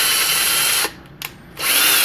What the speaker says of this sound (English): what I do is I just pop it into my cordless drill, make sure it's going the right way, run it in, run it out, run it in